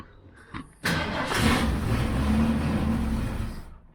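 A 1966 Ford Mustang, unstarted for 20 years, cranks briefly and fires on the first try, bursting into a loud, rough, rumbling idle that holds steady for a few seconds before cutting off.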